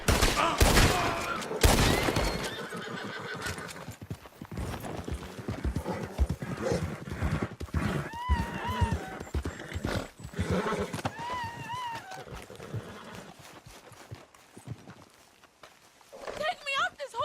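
Horse hooves clip-clopping and a horse neighing in the Red Dead Redemption 2 game, with steady hoofbeats under game dialogue, bursts of gunfire early on, and several whinnies in the middle and at the end.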